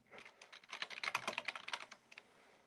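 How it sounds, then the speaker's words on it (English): Fingers type on a computer keyboard during a live online coin auction, a fast, close run of light clicking keystrokes that tapers off toward the end. "I can't even see what I'm typing."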